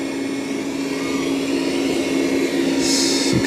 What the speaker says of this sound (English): Vacuuming on carpet.